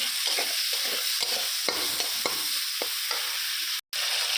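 Tomato and green chilli frying in hot oil, a steady close sizzle with repeated scraping stirs of a spoon against the pan, no voices.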